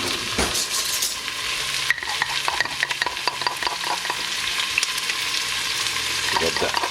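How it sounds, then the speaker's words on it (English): Onion and garlic fry in a pan for a Filipino mung bean soup, giving a steady loud sizzle with scraping stir strokes and utensil clicks throughout. "Let's fry the onion."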